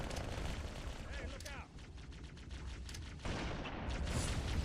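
Grenade blasts and heavy gunfire in a video game, a dense, continuous barrage of booms and rapid shots that stays loud throughout, with a voice briefly heard beneath the din.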